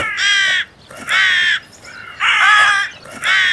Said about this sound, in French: les deux corneilles qui étaient perchées sur les têtes des pendus s'abattirent sur lui à grands cris